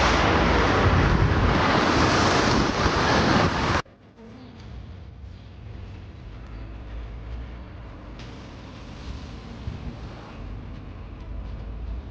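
A clear, clean river flows in Tirano, Italy: a loud, steady broadband rush of water for the first few seconds, then after an abrupt cut a much quieter, calmer outdoor ambience with faint flowing water.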